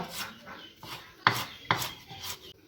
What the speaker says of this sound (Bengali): এবার কুচিয়ে নিচ্ছি একটু আদা